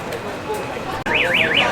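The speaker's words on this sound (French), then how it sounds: "Il a déclenché l'alarme." A car alarm sounds after a brief pause, its loud, rising-and-falling electronic siren warbling in a steady repeating cycle, with people talking underneath.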